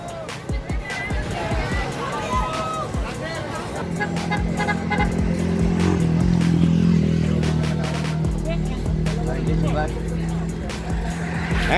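A motorcycle passes along the road during a Tanza cycling race. Its engine drone swells and lingers for several seconds before fading, with people shouting and chattering throughout.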